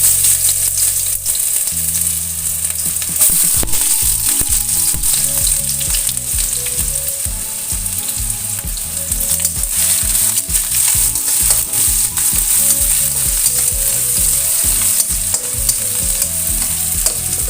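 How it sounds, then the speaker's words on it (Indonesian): Shallots, garlic and bruised ginger stir-fry in hot oil for a vegetarian vegetable sauté, giving a steady loud sizzle and repeated rhythmic scraping strokes of a spatula against the pan, with no talking. "kita masukkan terlebih dahulu bawang merah dan bawang putihnya, tumis sampai benar-benar mengeluarkan aroma yang harum"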